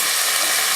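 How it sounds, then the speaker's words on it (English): Vegetables roasting in hot oil for a minestrone, a bright, steady sizzle and hiss heard close up in a short burst. "In oil I will roast my vegetables."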